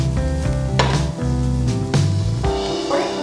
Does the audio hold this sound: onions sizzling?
yes